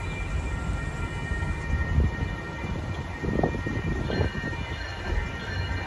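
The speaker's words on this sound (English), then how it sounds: "we got to see a train coming by at this railroad crossing" A southbound MBTA commuter rail train rumbles loudly through the Elliot Street railroad crossing, with steady heavy wheel noise and a high warning tone sustained throughout.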